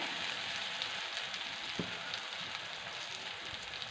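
Coriander leaves sautéing in a pot of homemade rasam, a soft steady sizzle close by with a faint stir or two, fairly quiet throughout.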